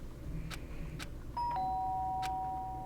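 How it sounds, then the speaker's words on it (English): A doorbell in the video game Danganronpa rings with a clear electronic chime that holds a sustained tone, sounding alone over faint background noise. "Sharp sound of the doorbell pierced the sleepy haze."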